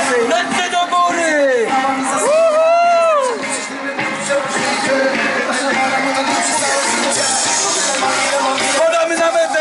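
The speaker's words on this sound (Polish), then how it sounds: "Ręce do góry, wielkie brawa!" A crowd cheers, whoops and claps at the finish line of a charity run, loud and continuous, while an announcer shouts over the noise through a loudspeaker.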